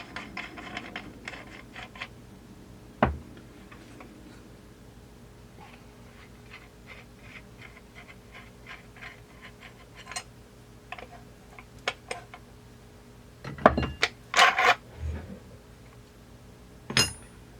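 Husqvarna 372 chainsaw parts taken apart by hand, giving sparse metallic ticks and light clinks with quiet gaps between, then a cluster of sharper knocks and clicks toward the end.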